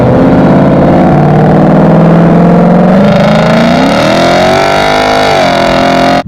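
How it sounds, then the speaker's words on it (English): A 2018 Mustang GT with a resonator delete and X pipe, its V8 exhaust droning loud and close, holding a steady note before climbing in pitch as it revs harder, then cutting off abruptly at the end. "one of the very first mods that we did was a simple resonator delete with an X pipe"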